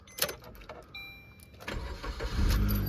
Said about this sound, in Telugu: సో నేనైతే ఇప్పుడు ఇంజన్ స్టార్ట్ చేస్తున్నా.